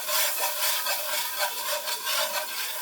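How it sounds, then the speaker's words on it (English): A wire whisk scrapes and swishes through sauce in a skillet, making a continuous close, raspy rubbing sound with no talking. "we're going to whisk it together to make, just whisk it as we go"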